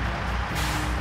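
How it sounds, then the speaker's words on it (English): A flatbed truck's air brake releases in a steady, loud hiss of pressurized air that runs through the whole short moment, close and alone with no voices. "Flatbed truck."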